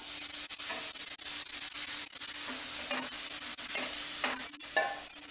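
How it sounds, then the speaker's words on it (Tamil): Close, steady sizzling hiss from a hot pan, with stirring scrapes and small bursts of bubbling as hot milk hits roasting semolina. "இப்போ நம்ம சூடு பண்ணி வச்சுருக்க பால்"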